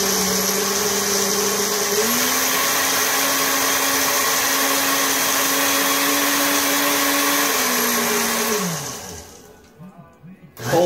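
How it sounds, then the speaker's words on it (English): A blender whirs steadily while mixing a garlic and ginger jerk marinade, its motor pitch rising partway through and then winding down to a stop near the end. "Mix that up really well in your food processor or blender, whichever one you're using."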